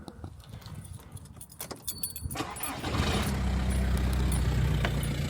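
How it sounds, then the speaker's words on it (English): Keys jangle close by before a 1.9 TDI diesel car engine turns over and catches, settling into a steady, low, rough idle that continues to the end. "I'll get the little dirty diesel start going."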